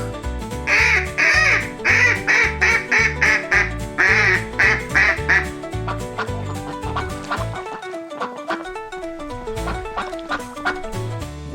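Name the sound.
duck quacking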